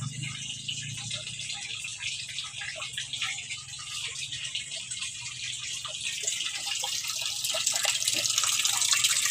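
Tap water runs steadily while laundry is hand-washed, a continuous splashing gush that grows slightly louder toward the end, with no clear talking.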